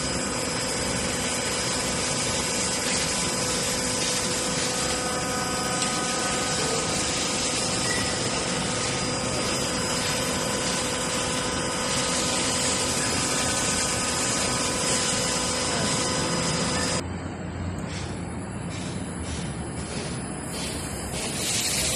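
A hydraulic notcher motor converted from three-phase to single-phase runs through an inverter, a loud, steady tonal whine with layered harmonics and hiss that shifts character and drops slightly near the end, no talk.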